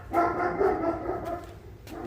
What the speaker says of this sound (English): And now the dogs are going nuts for whatever reason, I don't know.